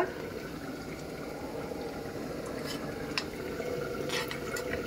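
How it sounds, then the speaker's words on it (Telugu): A pot of millet flour mixture for jowar roti simmers on a stove, giving a soft, steady bubbling hiss with faint pops, quiet and close, and no voice over it. "ఇట్లా 2 నిమిషాలు ఉడికిన తర్వాత స్టవ్ ఆఫ్ చేసుకోవాలి"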